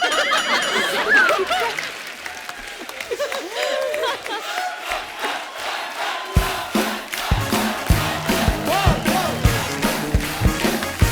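A TV comedy show studio audience cheers, laughs and breaks into rhythmic applause for a women's cricket team, swelling into loud, pulsing clapping in the second half.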